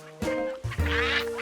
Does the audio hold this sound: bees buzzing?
no